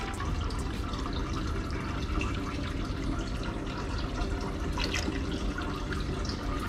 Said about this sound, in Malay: Sambil buang air tu, kita sedut kotor-kotor yang kita tak nak yang kotor-kotor tu